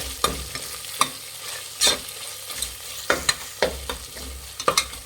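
Ginger garlic paste fried with turmeric is stirred in a pan for a cauliflower biryani: a low sizzle under a string of sharp spoon scrapes and taps, close up and irregular, with no talking.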